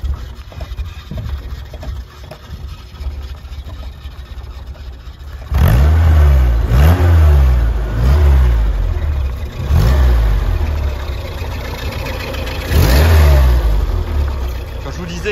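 A 1970 Lotus Europa S2 with its Renault R16 engine, first a low idle, then a series of loud, close revs that rise and fall in repeated bursts.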